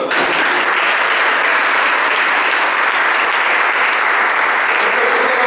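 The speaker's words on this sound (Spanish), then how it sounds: "Den un aplauso al Señor." A church congregation applauding in praise during a Spanish-language sermon, dense loud clapping that holds steady without a break.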